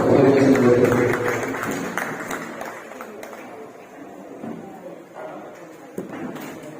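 An audience clapping together, a dense burst of applause that is loudest at first and then thins and fades, with voices mixed in beneath it.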